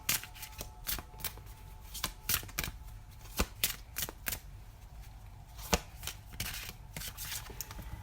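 Playing cards are shuffled close up, crisp riffling snaps and slaps coming in irregular bursts over a quiet background.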